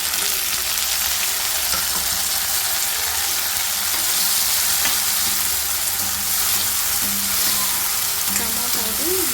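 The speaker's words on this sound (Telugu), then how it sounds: "టమోటాలు మెత్తగా అయ్యేంత వరకు మనం సిమ్లో పెట్టుకొని వేయించుకోవాలి." Chopped tomatoes fry in a pan for an egg masala curry with pot gourds, giving a steady, continuous sizzle and crackle with occasional light stirring, close and fairly loud with no talking.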